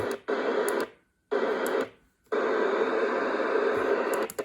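Weather radio picking up a very faint WXL 37 broadcast through static, heard as three bursts of noisy hiss broken by short silences, fairly loud and with no clear voice coming through.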